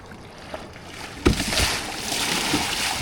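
A kayak pushes through big waves on the Missouri River, with rushing water and splashes rising into a strong slap as the hull hits a wave, continuing in loud churning surf up close.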